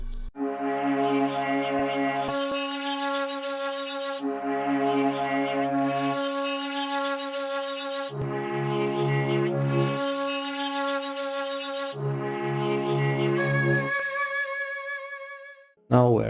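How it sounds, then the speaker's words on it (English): Two synthesized melodic lines from the Expand sample pack for a phonk production play in four repeating phrases, with sustained harmonic tones and a steady low bass layer, loud and continuous with no talking. "Here is two melodies from Expand, which sound like this."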